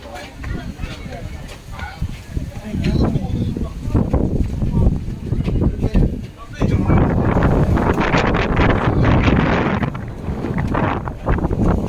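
Strong gusts of wind buffet the microphone in loud rumbling bursts on a high bridge in Palawan, with people talking underneath.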